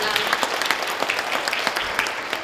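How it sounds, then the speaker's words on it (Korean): An audience at a community media forum gives presenters steady, moderately loud applause, many hands clapping close together with individual claps popping out of the mix. "우리 2부 발제자분들께도 큰 박수 좀 부탁드리겠습니다."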